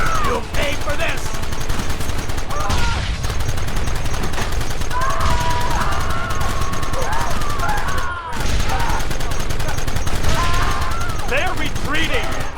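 Repeated gunfire in a Red Dead Redemption shootout, rapid shots crackling steadily over a dense, loud battle mix with voices shouting throughout.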